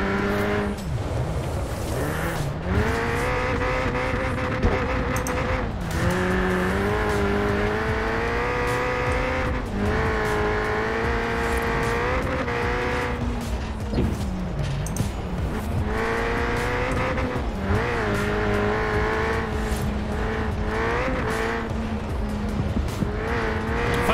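A car in the Forza Horizon 4 racing game, driven with a wheel and shifter, its engine revving up and down through gear changes, with tire squeal in corners, loud and continuous, no talk.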